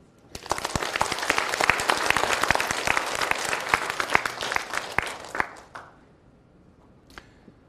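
A church congregation at a Korean revival service bursts into loud, dense applause. Many hands clap fast for about five seconds, then the clapping thins out and stops, with a few scattered claps afterward.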